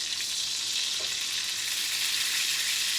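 Goat chop fat sizzling and frying in a hot pan, a steady dense crackle that holds evenly throughout with no voices over it.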